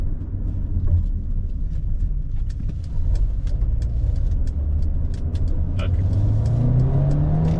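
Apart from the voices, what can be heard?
Mercedes GLB250 SUV accelerating to 60 mph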